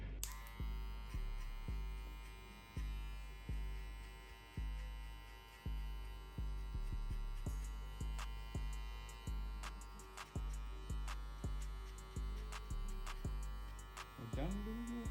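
Electric hair clippers buzz steadily while cutting a textured crop top fade with a mid drop, the motor drone pulsing in short repeated passes over the head, close and fairly loud, with faint voices underneath.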